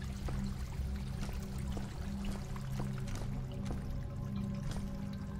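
Steady trickling, pouring water in Deadfall Adventures, a continuous splashy wash with faint repeated drips and a low ambient hum, even in level throughout.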